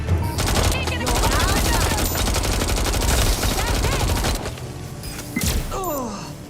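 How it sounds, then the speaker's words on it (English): Heavy gunfire in Watch Dogs: Legion, a loud continuous fusillade of rapid shots with ricochet-like whines, briefly easing before further bursts, with voices mixed underneath. "They're shooting!"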